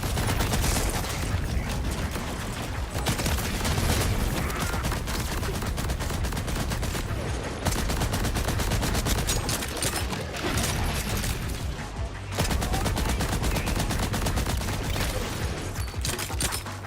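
Sustained automatic gunfire in the Borderlands video game in sniper mode: dense, loud, rapid bursts that run almost continuously, broken only by a few brief pauses.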